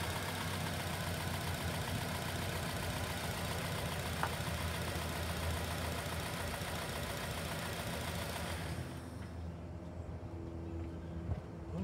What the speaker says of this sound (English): You can hear the engine lope a bit